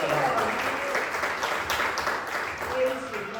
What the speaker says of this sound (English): Give the Lord a big clap offering.